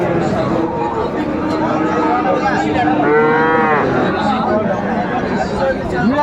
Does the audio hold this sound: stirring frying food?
no